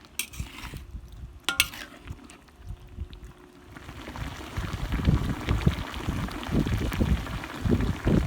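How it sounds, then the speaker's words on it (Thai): Marinated pork drops into a hot pot with a clatter, followed by rising sizzling and bubbling as the cooking grows louder and steady. "ก็ใส่หมูที่หมักไว้ลงไปนะคะ"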